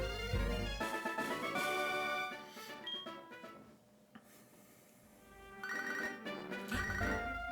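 A telephone rings in the Pokemon HeartGold video game, a bright synthesized ringtone jingle that plays loudly and continuously with repeating chimed notes, briefly dipping in the middle before resuming, with no talking over it.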